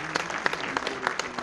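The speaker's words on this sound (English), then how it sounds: "Let's have a big round of applause, ladies and gentlemen." Audience applause at a Tuberculosis Day 2021 event welcoming a health minister, a short burst of scattered clapping with irregular sharp claps standing out over a steady patter.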